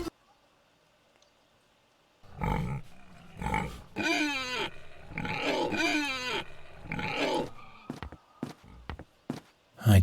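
Pig grunts and snorting squeals from a video game, several loud bursts in a row after a quiet start, with short choppy clicks and thumps toward the end.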